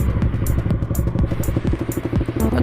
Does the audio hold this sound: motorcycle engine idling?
yes